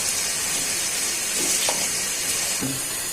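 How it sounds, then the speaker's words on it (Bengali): Onions frying in a pan for beef rezala give a steady, fairly loud hiss that runs through the whole stretch, with a couple of faint clinks and no voices. "এখন পেঁয়াজটা ভাজা হয়ে যায়।"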